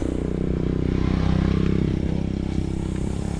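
A motorcycle engine drones steadily nearby on a road, holding a loud, even tone for a few seconds with a slight clattering edge and no voices.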